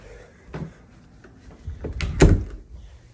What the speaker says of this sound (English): Hang on, I'm gonna close my door.